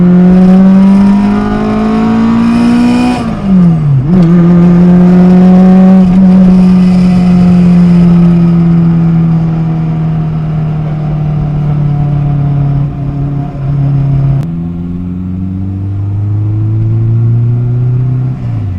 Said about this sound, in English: We're going to do a bit of a second gear pull.